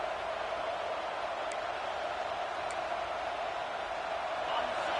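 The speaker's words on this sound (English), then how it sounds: "this home crowd is fired up and ready to make a difference today" A home crowd in a football stadium at a Penn State versus Clemson game keeps up a steady, dense roar of cheering and noise throughout, heard from within the stands, with no clear single voices standing out.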